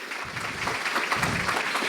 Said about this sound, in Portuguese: Eu queria uma salva de palmas para o líder do MDB, deputado Isnaldo Bulhões, aqui de Alagoas